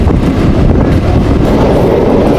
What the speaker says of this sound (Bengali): বন্ধুরা যাচ্ছি না চলে আছি এখন ট্রেনের মধ্যে